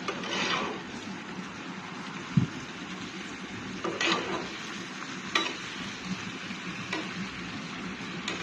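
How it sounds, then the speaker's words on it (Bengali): Spiced kochu shak (taro leaves) cooks in a pan, with a soft, low sizzle and occasional scraping strokes as the greens are slowly stirred. "মশলাটা একটু, সবজিটা একটু নাড়তে হবে"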